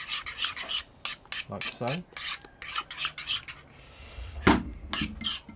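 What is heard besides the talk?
mixing Greek yogurt in a bowl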